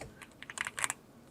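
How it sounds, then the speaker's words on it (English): Keystrokes on a Yunzii B75 Pro Max mechanical keyboard, a quick irregular run of about a dozen crisp, close clicks, soft and unaccompanied by voices. "when I'm pressing the keys, it changes to the blue for each key pressed"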